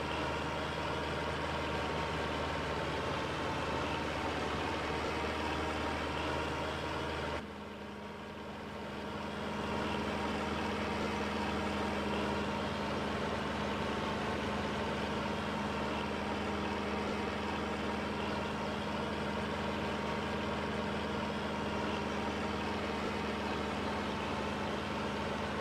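A tractor engine in Farming Simulator 25 idles with a steady low drone and hum throughout, briefly dipping in level partway through before returning to the same constant rumble, with no talk.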